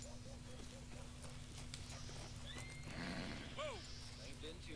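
A horse in the Western video game Red Dead Redemption 2 whinnies in a rising-falling call, with hoof clip-clop and background game music and ambience.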